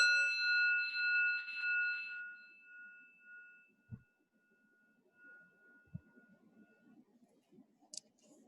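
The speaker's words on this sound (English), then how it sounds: "first I just want to sound a bell in your honor" A bell is struck in honour of a guru at a festival gathering and rings out clearly at the start, its bright tone fading over about three seconds. A couple of soft knocks and a small click follow.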